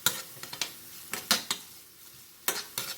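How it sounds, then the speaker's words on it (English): Chicken and beef burrito filling with chili flakes is stirred in a pan, a spoon scraping and tapping the metal in short, irregular clinks over a faint background. "So we are going to add chili flakes and we can stir it."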